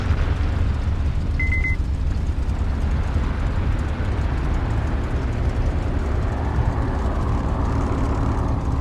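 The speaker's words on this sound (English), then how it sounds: "There goes the Spitfire." Steady, loud drone of a Spitfire aircraft engine in a flight simulator, a continuous low rumble with constant roar throughout, close and unbroken.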